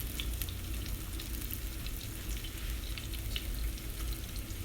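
Chicken pieces for crunchy chicken fry in a pan with a continuous, even sizzle and fine crackling pops, close and steady throughout, with no talk.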